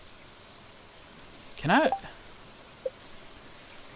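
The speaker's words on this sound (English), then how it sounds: "Oh, it's raining." Rain falling in the farming video game Stardew Valley, a faint steady hiss of light rainfall in the background as a person briefly speaks over it.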